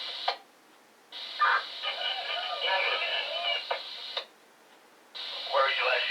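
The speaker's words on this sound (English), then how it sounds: "Y'all might hear the scanner in the background." Police scanner radio chatter in the background: bursts of tinny, band-limited voice transmissions separated by short silent gaps, moderately faint and thin, like a handheld receiver in the room.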